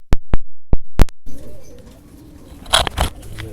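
Pigeons of the red Bajrai style give several deep, close, separate coos at the start, followed by soft rustling and a couple of louder bursts.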